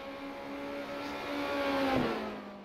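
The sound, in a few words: Formula Renault 2.0 race car engine, iRacing video game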